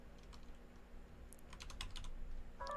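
A computer keyboard at a browser is tapped in a quick cluster of faint, sharp key clicks over a low background hum, with no talking.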